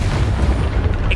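The Protego shield spell from the game Hogwarts Legacy sounds as a deep, muffled magical boom that holds steady and loud for about a second, ending in a faint shimmering ping.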